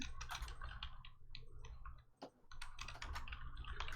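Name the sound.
typing on a computer keyboard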